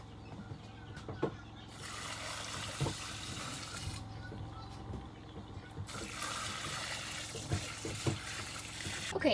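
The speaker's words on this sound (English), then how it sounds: "Now I did add hot water. You can add hot water in here." Water filling an off-grid laundry washer with hot water: a steady pour and trickle with rushing surges, close up, and a voice speaking intermittently over it.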